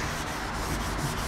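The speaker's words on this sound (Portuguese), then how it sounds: "tu tá lixando e vendo bem com o paninho na mão, limpando" Hand sanding of primer on a car body being prepared for paint gives a steady, close abrasive rubbing hiss with faint rhythmic strokes, alone without speech.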